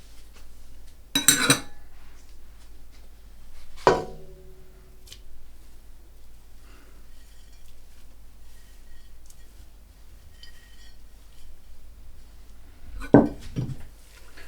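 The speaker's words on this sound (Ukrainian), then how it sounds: "Все це також добре перемішую" A spoon stirs an elderberry kvass mixture with citric acid and elderflowers in a pot, giving a few sharp, close metallic clinks near the start, middle and end, with near silence between them.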